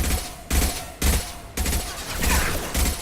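Sci-fi video game gunfire: a rapid series of loud, booming shots in bursts about every half second, then a denser sustained volley, close and dominant.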